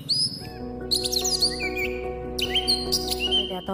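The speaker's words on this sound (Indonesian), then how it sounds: "Wow, ada hewan burung, burung elang." A toy eagle plays an electronic bird call: a rapid run of bright, close chirps and whistling tweets that continues without pause.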